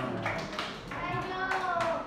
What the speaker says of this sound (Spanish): ¡Aplauso para nuestra amiga Adriana!